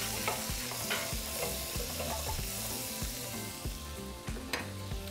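A spatula scrapes steadily across a pan as butter melts and sizzles, with rhythmic, close scraping strokes over a constant bright fizz. No one speaks.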